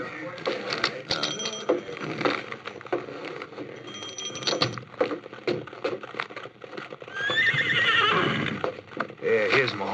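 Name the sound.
horses neighing and hooves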